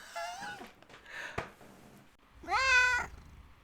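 A cat meows twice, fairly close and clear, with a short thump in the quiet gap between the two calls.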